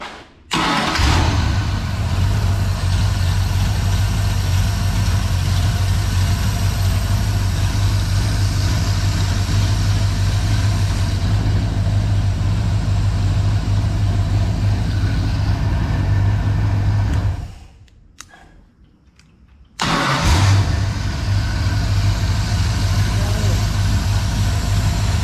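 A 1986 Ford 302 V8, swapped to a carburetor and running on the ground outside the vehicle, idles loud and steady with a deep, even rumble, briefly cutting out near the end before firing back up.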